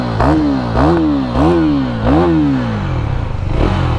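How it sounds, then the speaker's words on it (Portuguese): KTM 390 Duke single-cylinder motorcycle engine blipped through four loud, close revs in quick succession, each rising and falling sharply, then settling into a rough, thumping idle. "Olha o barulhinho, monocilíndrico."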